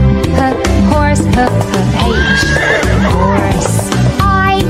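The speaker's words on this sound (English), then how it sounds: "H is for horse" A horse neighing loudly and close, a long wavering whinny with a layered harmonic quality, set against a bouncy children's music backing.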